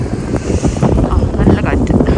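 Strong wind during a Canadian snowstorm rushes over the microphone in a continuous low roar, with voices speaking close by throughout.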